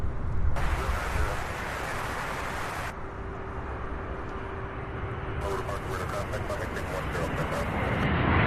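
A UPS MD-11 jet taking off at Louisville International Airport, its engines a loud, broad roaring rush that holds steady throughout, with a voice speaking over the noise.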